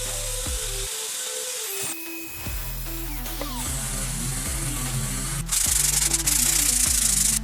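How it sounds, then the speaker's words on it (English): A power sander works over wood in a workshop with a continuous gritty, rubbing whine that shifts in pitch as the pressure changes, then grows louder and harsher near the end. "Logically, mill off both sides and then sand down."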